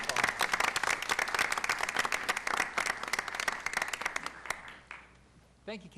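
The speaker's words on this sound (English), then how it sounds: "Let's give both these young ladies another round of applause." A council chamber audience at a city council meeting claps for two young poster-contest winners, with steady applause that thins out toward the end before a voice briefly starts speaking.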